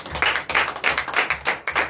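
A church congregation at a Sunday service in Benin claps in acclamation, a rhythmic run of about eight crisp, even claps in quick succession, close and clear without talking.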